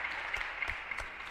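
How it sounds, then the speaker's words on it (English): A crowd at a men's basketball game gives a round of applause, faint and distant, a soft continuous patter of claps throughout the short stretch. "They're giving a round of applause."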